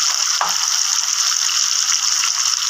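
Hot oil in a pan sizzles steadily and loudly as turmeric powder goes in while spices are added for a vegetarian cabbage ghonto. A brief stir or splash stands out near the start.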